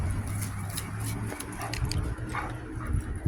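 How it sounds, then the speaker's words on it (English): A dog out on a nature trail in Rolling Springs, California makes soft whimpers and brief yips at close range over quiet outdoor ambience, with no clear talking. "I'm here with my dog Jesse"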